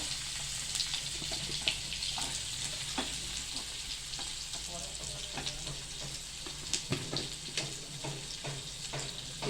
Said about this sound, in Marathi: त्याच्यामध्ये हा ठेचलेला लसूण टाकायचा आहे आपल्याला.